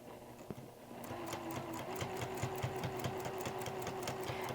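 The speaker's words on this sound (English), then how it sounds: "Very carefully, I'm going to take my time and continue to move back and forth down here to make sure that that binding is staying in the right place" A sewing machine stitches binding onto a quilt with a quiet, rapid, even mechanical chatter that starts after a short pause and keeps going steadily, with no talking.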